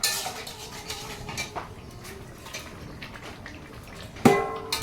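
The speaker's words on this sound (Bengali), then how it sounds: "একটু খুন্তি দিয়ে এইভাবে নাড়াচাড়া করলাম" A metal spatula stirs a simmering fish and eggplant shukto curry in a pot, giving soft scraping and clinking through the clip and one sharper clank of utensil against pot near the end.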